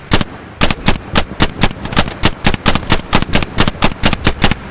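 Rapid bursts of video game gunfire crack out in a steady, evenly spaced automatic rhythm, loud and close, with no talk over them.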